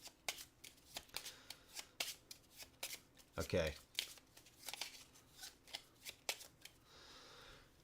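Playing cards riffled and shuffled in repeated quick bursts at a co-op board game table, crisp flutters and snaps close by, with a brief spoken word and paper crinkles between shuffles.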